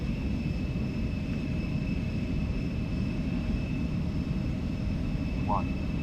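Steady, loud broadband roar of E-Jet engines held at full takeoff thrust in a flight simulator, continuous for the whole stretch with a faint tonal whine on top.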